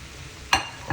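Cabbage in a big pan, a quiet background sizzle broken by two short scraping stirs, the second one softer.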